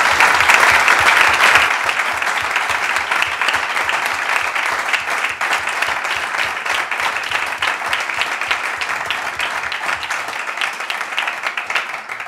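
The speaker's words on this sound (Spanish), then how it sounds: "Y quiero pediros a todos un aplauso para las mujeres de Unidos Podemos y las confluencias." A crowd at a Podemos party council meeting applauds the women of Unidos Podemos, a long, loud, sustained ovation of many clapping hands that settles into a steady rhythm and fades slightly toward the end.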